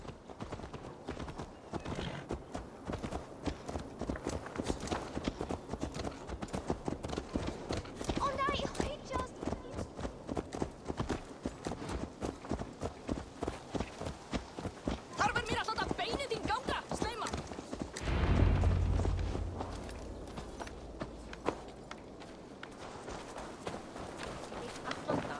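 Horse hooves in the video game Assassin's Creed Valhalla: a steady, rhythmic clip-clop of a walking horse carries on throughout, close and clear, with voices talking over it.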